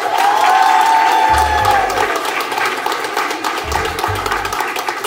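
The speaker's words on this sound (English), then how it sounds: "Lions, round of applause for Chef Tilla." A school audience applauds and cheers loudly for a guest chef, with a sustained wash of clapping and shouts, some whistling early, and low thumps underneath.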